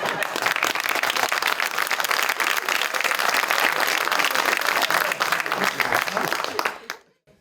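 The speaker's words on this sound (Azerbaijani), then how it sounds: "Qoy qardaş əl çalsın, o əl çalmaq istəyir. Bir də əl çalsın." Sustained audience applause at a comedy show, a dense, loud, steady wash of clapping that holds for about seven seconds before dying away abruptly.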